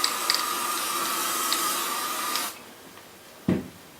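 Spray adhesive glue hisses steadily from a can for a couple of seconds, stops abruptly, and then a short, sharp burst follows after a pause, with no voices.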